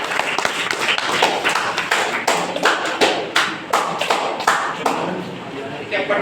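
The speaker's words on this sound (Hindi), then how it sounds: "अच्छा तो दोस्तों एक बार ताली बजाइए" Audience at a Hindi poetry event clapping together on request, a loose, ragged burst of hand claps with uneven rhythm, fairly close and steady throughout, with voices mixed in.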